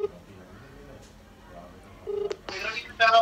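Phone dialing tones from a call placed on a mobile phone, short beeps and tonal bursts near the end over a low background hum.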